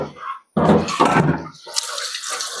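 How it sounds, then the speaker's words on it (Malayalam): Water poured into a pot of mango rasam made with roasted raw mango, a steady splashing gush that starts abruptly, swells, then thins into a trickling, bubbling flow, close and alone. "ഇനി കുറച്ചുകൂടെ വെള്ളം ഒഴിക്കണം"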